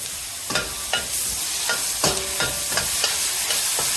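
Vegetables and tomato for veg manchurian stir-fry in a hot pan, a constant loud sizzle cut by regular scraping strokes of a spatula, about two per second, with no talking.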